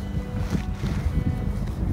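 Gusty wind buffeting and rumbling across the microphone on a hiking trail in Lassen Volcanic National Park, loud and continuous outdoors, with no voices.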